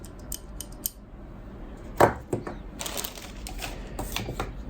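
Pliers snip through a power extension cable for a graphics card, giving one sharp, close cutting snap in the middle, with small handling clicks before and after.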